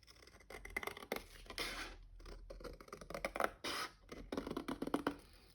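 Scissors cutting through card while making a cascade accordion tunnel card, close and quiet, with a series of irregular snipping and scraping strokes separated by short pauses.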